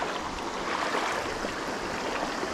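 A river flows steadily around someone wading out toward snags in a bass-fishing spot, giving a continuous close, fairly loud rush of moving water with no talk.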